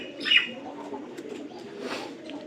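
Low, soft cooing of pigeons close by, with a brief higher chirp near the start.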